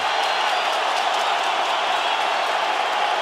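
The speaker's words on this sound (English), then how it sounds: "Brooklyn crowd getting behind these 2 warriors." Brooklyn crowd at an MMA fight between Zabit Magomedsharipov and Kyle Bochniak roaring in a steady, dense wash of cheering and applause that carries on without a break throughout.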